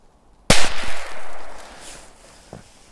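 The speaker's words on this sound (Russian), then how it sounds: "Вот такая петарда К03." A K03 firecracker set in snow goes off with one sharp, loud bang after near silence, followed by a brief rumbling echo and a faint small pop afterward.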